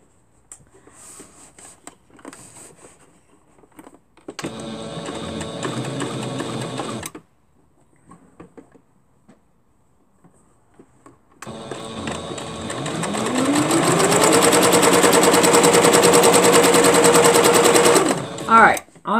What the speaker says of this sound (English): We're going to start sewing it down now.